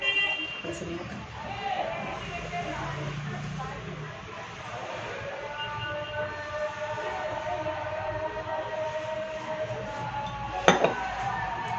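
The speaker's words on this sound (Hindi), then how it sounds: "बर्तन बना लेती हूँ" Dishes, pots and pans being washed at a home sink, with soft clinks and scraping continuing steadily, a sharper clatter near the end, and someone talking over it.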